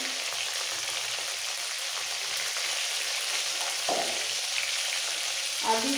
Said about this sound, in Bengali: আলু পটল তেলের মধ্যে একটু হালকা ভেজে দিয়ে দেবো নুন আর হলুদ, খুব সামান্য।